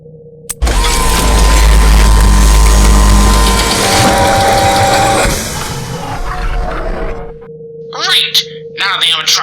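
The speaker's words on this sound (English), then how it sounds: "the inside mechanisms of the suit must be compressed so you can fit right inside" Animatronic suit mechanisms in a horror video game compress into mascot mode with a loud grinding, ratcheting mechanical rush that runs several seconds and tapers off, followed by short clicking sounds.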